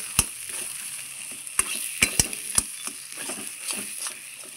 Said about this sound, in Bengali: মিষ্টিটা দিয়ে আবারও খুব সুন্দর করে কষাবো।